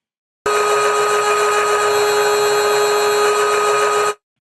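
A synth noise oscillator held at a fixed pitch with no modulation, a steady buzzing, hissy tone with a constant bright line through it, loud and unchanging for about four seconds before stopping.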